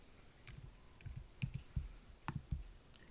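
Several sharp computer mouse clicks while importing a dataset from a text file in R, arriving in small clusters of two or three, close and fairly quiet against a faint room background.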